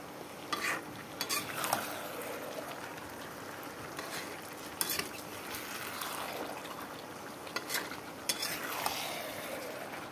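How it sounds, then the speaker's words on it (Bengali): Chicken pieces stir-fried in a pan at home, a steady sizzle running throughout with repeated scraping strokes of a spatula against the metal, close and moderately loud, with no voices. "চিকেনটা কিন্তু ভালো করে কষিয়ে নিতে হবে"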